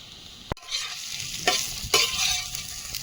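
Fish fries in a pan with coriander powder as it is stirred, a bright sizzle broken by a sharp utensil knock and a few scraping stirs.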